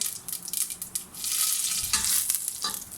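Cumin seeds and a few curry leaves sizzle loudly in about a tablespoon of hot oil for a lentil (moong dal) tempering, a steady bright crackle with bursts of spitting and stirring, close and alone with no talk.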